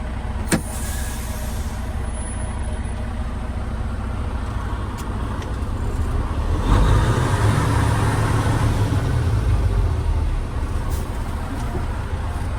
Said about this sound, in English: Now I'm going to go 5 miles an hour to test the service brake